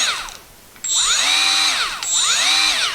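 Milwaukee cordless right angle die grinder revving up twice to maximum speed of 24,500 RPM, each start a rising whine that settles into a steady high-pitched motor tone, close and loud, with no talking.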